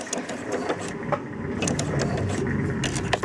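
A home sewing machine stitches fabric heart coasters with a continuous rapid mechanical whir and rattle of needle strokes, close and fairly loud, running steadily with no talking.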